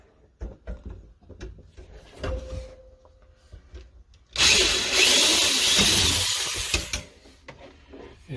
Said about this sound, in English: You know, the drill for that.